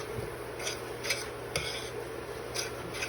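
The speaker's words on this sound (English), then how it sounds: "So we want to keep stirring and keep mixing" A spoon stirs condensed milk in a pot on the stove for Liberian milk candy, making quiet, regular scrapes and light metal taps against the pot at close range, with no talking.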